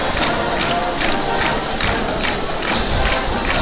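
A big home crowd roars steadily at a Katy vs. Katy Jordan high school football game at Legacy Stadium's Mike Johnston Field, late in the fourth quarter, with a continuous broad din and swelling cheers and no clear talk.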